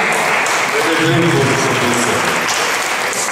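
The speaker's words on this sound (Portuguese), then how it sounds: "Muito obrigado pelas palmas." Audience applause at an awards ceremony: thick, continuous clapping filling the whole stretch, with someone speaking briefly over it.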